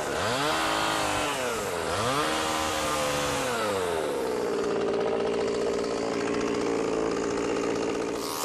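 A chainsaw cuts wood for a sculpture, its engine revving and dropping a couple of times before settling into a steady loud whine as it bites through, close and continuous.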